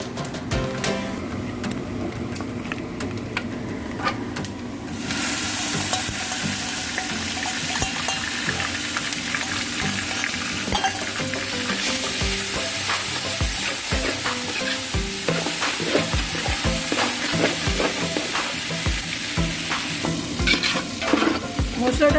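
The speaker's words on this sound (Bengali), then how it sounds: "মশলাটা কষানো হয়ে গেছে" Spice mix of cumin powder and coriander powder sautéing in a pan for bhuna khichuri, a soft hiss that swells into a steady, loud sizzle, broken by repeated scrape-and-clack strokes of a stirring spoon.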